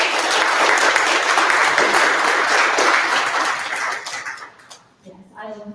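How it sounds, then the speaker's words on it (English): Town hall audience breaks into sustained clapping, broad and steady for several seconds before fading out as a voice starts speaking. "Can we give them a round of applause?"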